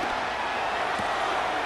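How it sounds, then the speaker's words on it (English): Stadium crowd in the Madden 25 football video game, a dense, steady roar of cheering that holds at the same loudness throughout, with a faint commentator-like voice briefly under it. "This crowd turning up the decibel level."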